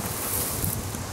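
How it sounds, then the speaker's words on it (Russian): Wind buffeting a microphone outdoors, a brief burst of loud rumbling gusts with hissing noise throughout. "Так, ныкаемся от ветра."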